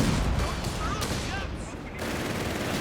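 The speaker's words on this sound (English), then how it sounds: "Shooting getting flanked by a 6-pounder gun" A Company of Heroes 3 battle in which small-arms and machine-gun fire crackle in loud, dense bursts alongside the heavy shots of a British 6-pounder gun.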